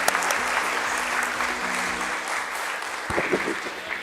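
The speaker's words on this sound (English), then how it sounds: "Can we once again have a huge round of applause for all of you" An audience at a stock exchange listing ceremony in India applauds, a close, dense and sustained round of clapping with a few voices rising near the end.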